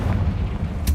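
A Confringo fire spell detonating in Hogwarts Legacy gives a short, loud, deep boom with a rumbling low-end body, close and heavy, ending with a brief sharp crack.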